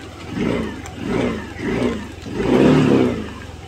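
Yamaha Aerox 155 scooter engine revved several times from idle, four rising-and-falling surges with the last one longest and loudest, close by.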